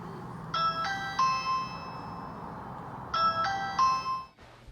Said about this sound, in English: I wonder who's ringing in my doorbell right now.